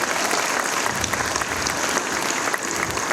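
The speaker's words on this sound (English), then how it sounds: "A big round of applause." Steady, dense applause from a large audience fills an auditorium at a university centenary celebration, a continuous wash of clapping with a faint crowd murmur beneath.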